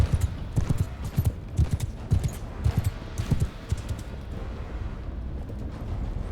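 Horse hooves clip-clop in a steady, uneven gallop rhythm in Mount & Blade II Bannerlord, close and fairly loud for most of the stretch, then thinning into a softer background rumble toward the end.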